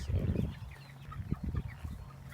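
Chickens cluck and murmur steadily nearby, with a low rumble of wind or handling noise and a soft word spoken near the end.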